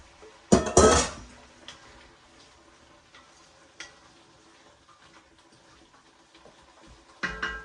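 A spoon scrapes and clatters as beef goes back into a pot of pirate stew, with one loud burst of stirring early, scattered faint clinks after, and another clatter at the end.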